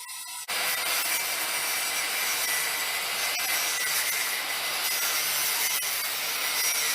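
Wood pieces for a home-built cupboard being cut, a steady, loud, continuous rasping saw noise starting after a brief pause and running without break throughout.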